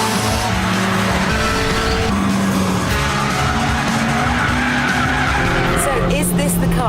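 A Japanese race car lapping a track roars loudly throughout, engine revs rising and falling through gear changes with tire squeal and skidding noise, continuous and close, with a voice faintly underneath.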